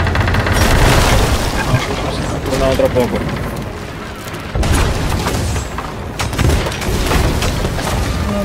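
Ship cannons firing in a naval battle video game make heavy, booming blasts and rumbling volleys throughout, with players talking over the gunfire.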